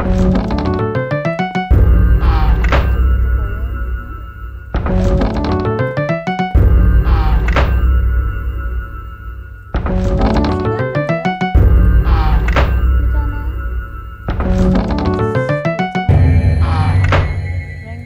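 Shooting effects from Minecraft CraftRise Bedwars play as repeated loud, punchy thunks in bursts, with quick pitched ticking runs between them and no speech.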